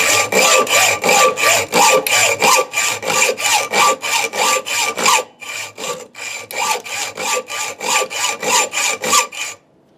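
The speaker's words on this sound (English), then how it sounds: "this is just a standard hacksaw blade. It's 24 teeth per inch. Useful for kind of most metals" A standard 24 TPI hacksaw blade cutting through a steel axe head held in a small vise, loud rhythmic back-and-forth strokes, about two per second, with one brief pause partway through.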